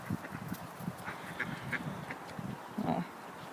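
Ducks quack in several short bursts, some clustered, close by outdoors while being fed bread near a driveway, with a steady background hum.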